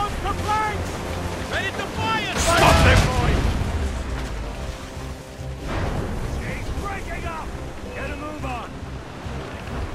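Naval battle from the video game Assassin's Creed Rogue, with loud booming blasts of ship cannon fire and explosions amid wind and surging sea, while voices shout and speak throughout.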